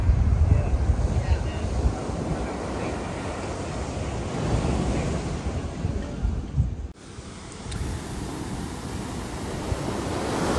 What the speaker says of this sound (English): Love the sound of the ocean. So calm, so relaxing.